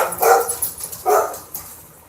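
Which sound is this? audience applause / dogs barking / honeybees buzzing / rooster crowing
dogs barking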